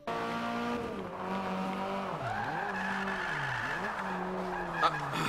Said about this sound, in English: let's do a little handbrake turn here